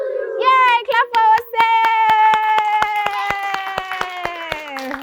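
Group of children clapping in a quick, even rhythm, sharp claps close by, while young voices cheer and sing over them.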